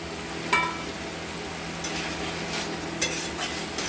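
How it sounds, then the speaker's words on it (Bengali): Banana blossom and peanuts stir-fried in a pan, with scattered scraping stirs and a faint sizzle over a steady low hum, several sharper spatula knocks standing out. "মোচার সাথে কষে নেব। এর সাথে দিয়ে দেবো আমরা বাদামগুলো।"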